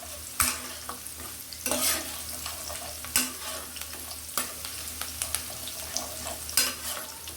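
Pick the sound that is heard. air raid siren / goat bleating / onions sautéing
onions sautéing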